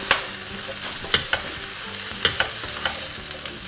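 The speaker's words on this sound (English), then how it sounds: "just add all of it and then give it a good mix" A potato and chickpea chaat mixture is stirred in a hot pan, with a soft sizzle underneath and sharp, irregular scrapes and clinks of the spoon against the pan.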